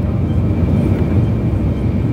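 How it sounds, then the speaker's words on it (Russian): Steady, dense roar of an airplane cabin during a flight to North Korea, a constant low rumble with no breaks. "Но самолет уже летит, так что все нормально."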